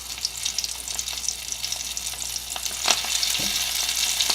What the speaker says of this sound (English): And we're going to allow them to fry.